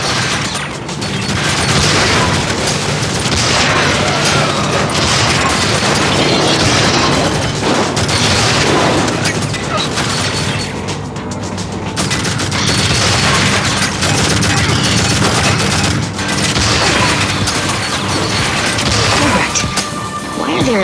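Soldiers opening fire in the Tribes Vengeance game, a dense, loud, continuous barrage of gunshots, blasts and crashing impacts with no letup, voices mixed into the chaos.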